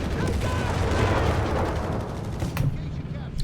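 MG42 machine gun in Company of Heroes 3, a wartime battle on a farm with a Sherman tank nearby, rattles in dense continuous bursts amid rumbling battle noise and explosions, loud and close, with a quieter tail near the end.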